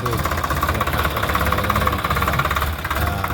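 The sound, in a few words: Swaraj 855 FE 4WD tractor engine running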